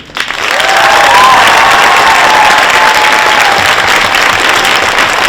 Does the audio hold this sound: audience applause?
yes